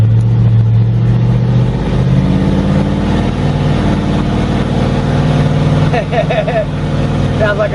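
A cheap, worn older Land Rover engine runs loud and close with a steady low rumble and a rising rev, while someone speaks over it.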